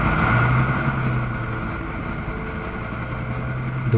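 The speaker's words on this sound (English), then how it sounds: "the revving gas-hungry engines of the tank" Tank engines running low and heavy in a sound-design mix, a steady throbbing drone that swells slightly at the start and holds constant throughout, with dense broadband rumble and no voices.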